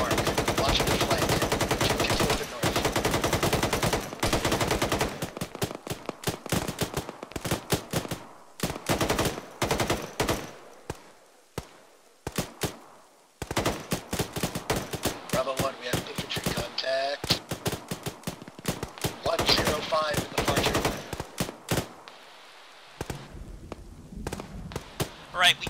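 Enemy gunfire in a tactical military video game, sharp loud gunshots in rapid bursts and scattered single cracks, some close and some from a distance, with radio chatter and voices in between.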